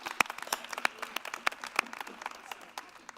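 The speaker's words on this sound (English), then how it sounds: "you can clap, you can clap" Audience clapping at an International Thespian Society induction for a school theatre troupe, a scattered round of individual claps with a few sharp, loud hand strikes standing out over a steady patter.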